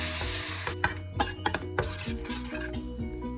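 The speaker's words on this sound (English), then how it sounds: "Once our ginger and garlic fry, then add our prepared paste. Give it a nice stir." A spoon stirs and scrapes through a paste frying with ginger and garlic in a pan, with sharp metallic clinks and knocks against the pan over a steady sizzle.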